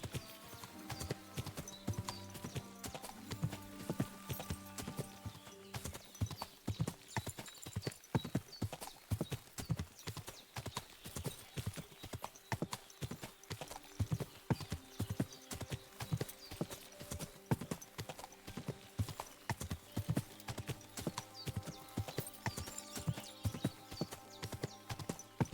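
Horse hooves clip-clop steadily and close in the video game Kingdom Come Deliverance 2, a continuous rhythmic trot over a music bed, with a brief whinny near the start.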